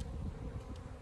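Bees from a hive inside a termite mound: a faint low droning buzz of many insects, close but quiet and continuous for a brief moment.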